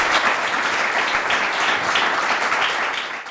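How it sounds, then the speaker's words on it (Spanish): An audience applauds two cinematographers at a televised talk, a dense, sustained wash of clapping that stays loud and even before tapering slightly at the end. "Un fortísimo aplauso para ellos"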